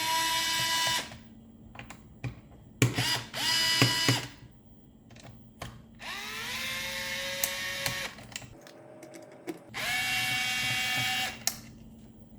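A Fanttik NEX L1 Pro electric screwdriver backs hard drive screws out, several short whirring motor bursts with pitch shifts, separated by pauses and small clicks, close and clear with no talk.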